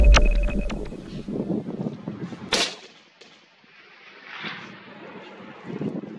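Gusty wind on an outdoor hunting trip batters the microphone in heavy low rumbling bursts, loudest at the start. A sharp gust-like crack follows, then quieter swells of wind.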